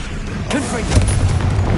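Confringo fire-blast spell cast in Hogwarts Legacy, a short whooshing burst with a rising sweep and low rumbling tail, loud and close, layered over game effects.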